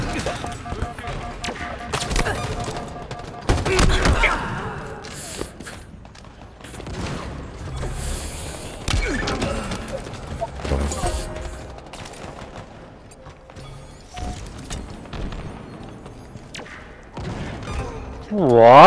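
Video game gunfire with scattered bursts and single shots, some loud and close and others fainter, set against game background sounds and occasional talking.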